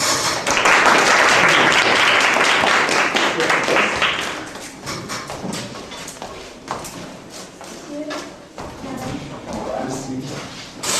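A classroom of sixth-grade pupils applauds their classmates during a class library session, dense clapping loudest at first and thinning out over several seconds, with voices talking through it.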